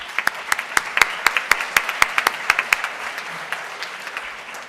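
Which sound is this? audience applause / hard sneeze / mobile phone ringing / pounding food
audience applause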